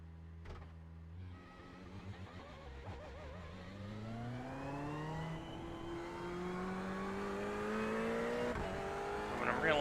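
A race car in a racing game at Bathurst, on a hot track with maximum fuel, revs up through rising gears, with the engine whine climbing steadily and shifting at intervals, while someone talks faintly underneath.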